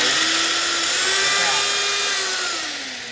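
A two-speed power sander fitted with an 80-grit wheel runs on its slow setting, giving a steady, close whine with a faint rising drift that eases off toward the end.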